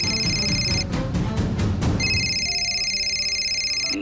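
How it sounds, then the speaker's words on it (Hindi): A phone rings in a drama scene at night, a bright electronic tone in two bursts separated by a short gap over background noise. "मामी जी का फोन।"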